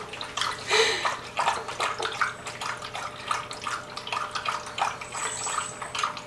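A PetSafe Drinkwell multi-tier pet water fountain running, a steady trickling and splashing of water with small irregular drips and gurgles, close and fairly loud.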